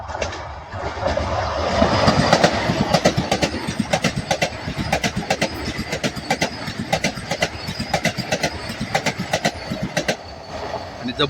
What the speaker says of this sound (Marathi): हुबळी पुणे वंदे भारत एक्सप्रेस आता येत आहे